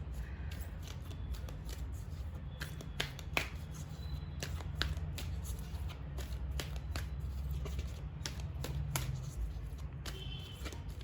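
Tarot cards are shuffled and drawn by hand, giving quiet, continuous papery riffling with scattered sharp snaps and flicks over a low room hum.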